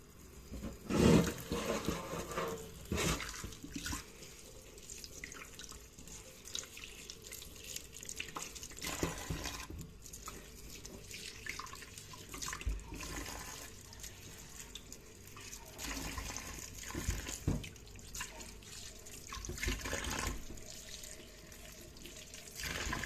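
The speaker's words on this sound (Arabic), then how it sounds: "هنبدا بسم الله كده ونشطفها تحت الميه" A cauliflower is rinsed under a running kitchen tap, a steady stream of water splashing into the sink throughout with shifting splatters as the vegetable is moved about, with no talking.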